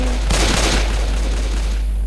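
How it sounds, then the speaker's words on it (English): Rapid bursts of gunfire hit zombies in the video game Left 4 Dead 2, with a dense volley of close, loud shots at the start that trails into a rumbling, noisy tail. "Shoot that zombie in the back!"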